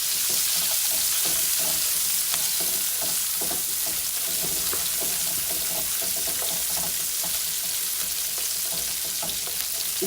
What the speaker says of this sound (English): we're going to use this to caramelize the onions